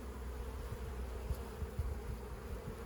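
A dense, steady buzzing drone of many honeybees close by in a packed hive, continuous throughout with no talking.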